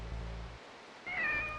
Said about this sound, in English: It's a black cat.